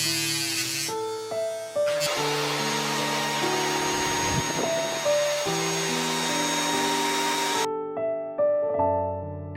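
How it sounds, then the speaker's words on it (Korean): A small drill boring holes one by one in a miniature diorama for railing posts, a steady high whirring buzz over background music, with the motor stopping near the end. "난간 지주를 세우기 위해 드릴로 지주가 들어갈 자리를 하나씩 뚫어줍니다."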